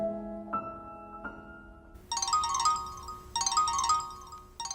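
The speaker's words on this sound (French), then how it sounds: "Mon portable, il sonne." A mobile phone ringing: a few soft tonal notes, then repeated bright bursts of ringtone chirps in two clear groups, fairly close and alone.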